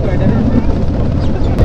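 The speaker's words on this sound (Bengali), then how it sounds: "আমরা ফাইনালি এই শীতলক্ষা নদীতে ট্রলারে করে যাচ্ছি।" A trawler boat's engine drones steadily while it travels on the Shitalakshya river in wind and current, a loud continuous low rumble with a voice heard over it.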